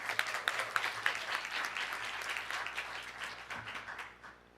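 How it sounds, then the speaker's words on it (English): Sustained audience applause for Andrew at a council meeting, steady dense clapping from a room of people that gradually thins and fades near the end. "could we have a huge round of applause for Andrew?"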